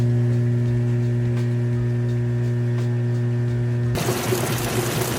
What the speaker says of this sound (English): Still got the drain kicked on, draining that water out.